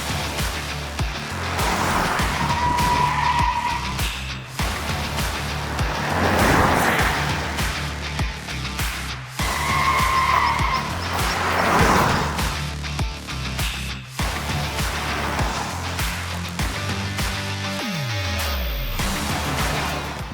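2025 Range Rover Autobiography luxury SUV driving hard through twisty roads near Delhi, with a steady engine drone, swelling and easing through bends, and occasional tire squeal, heard continuously from inside or close by.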